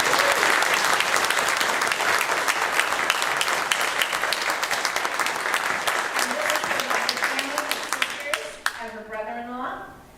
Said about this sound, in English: Would you join me in just giving her a round of applause for that?